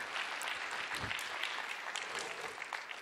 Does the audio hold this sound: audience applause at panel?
yes